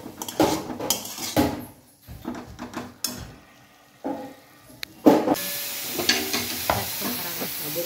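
Dill greens bhaji being stirred in a pan, with irregular scraping strokes and clinks of a spoon against metal over a soft sizzle, and a sharp clatter partway through.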